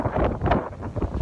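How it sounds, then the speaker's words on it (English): Strong gusts of around 30 mph in a stormy apiary around honeybee boxes buffet the microphone with loud, continuous rumbling wind noise that surges and dips. "we are at 30 mile an hour gusts and rising"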